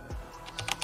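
Quick taps on a mobile phone's on-screen keyboard while a password is entered, several light clicks bunched toward the end, close and clear with no voice.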